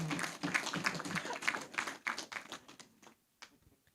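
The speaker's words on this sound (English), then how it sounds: "So let's give a round of applause to me." Scattered applause from a small crowd, brisk irregular clapping that thins out and fades to a few last claps.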